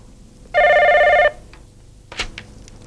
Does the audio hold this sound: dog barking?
no